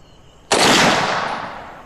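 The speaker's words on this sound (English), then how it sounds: "I'll be aiming for mine with a powerful long-range rifle." A single powerful long-range hunting rifle shot fired at wild boar outdoors cracks sharply and loudly, then rolls away in a long echoing decay lasting over a second.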